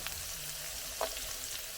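Garlic and onion fry in a pan with a soft, even sizzle and one brief utensil tap midway, fairly faint and without speech.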